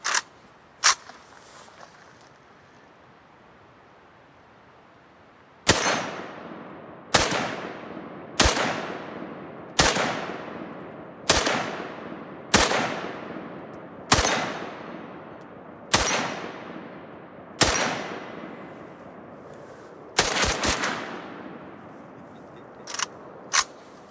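AK rifle fitted with an angle-cut muzzle brake fired outdoors: about a dozen loud, sharp single shots spaced a second or two apart, each with a ringing decay, plus a couple of earlier shots and a closing pair.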